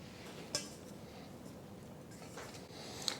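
A 9x13 baking dish and a 9-inch cake pan are handled for cinnamon rolls, giving two light, sharp clinks a few seconds apart over a quiet kitchen background.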